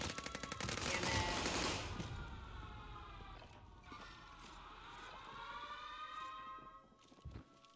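Gunfire in a first-person shooter game: a dense burst of rapid automatic shots at the start, then rising and falling tonal effects with scattered shots, fairly faint overall.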